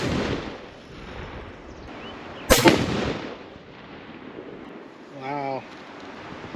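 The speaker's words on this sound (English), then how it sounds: "Hopefully it shoots out of that gun." A single sharp, loud rifle shot from a high-end rifle during an ammunition grouping test cracks out mid-clip and then decays. Quieter outdoor background and a brief faint tonal sound follow.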